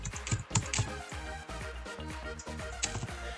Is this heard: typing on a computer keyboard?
yes